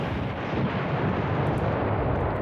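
Dense, continuous rumble of artillery fire in the wargame Command Ops 2, a steady low roar of distant shelling with no clear individual blasts, loud and unbroken throughout.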